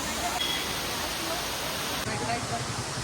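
A small waterfall in Kodaikanal produces a continuous, even rush of falling water that stays steady at moderate loudness for the whole short stretch.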